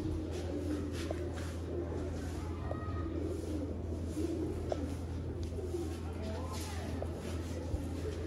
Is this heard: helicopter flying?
no